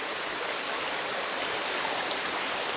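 The River Stour flows under a railway bridge on an old railway greenway near Stratford-upon-Avon, a steady broadband rushing of water heard alone, even and continuous throughout.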